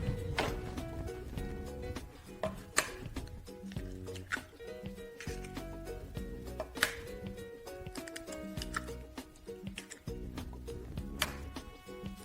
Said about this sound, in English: now I have 3 eggs that we are going to break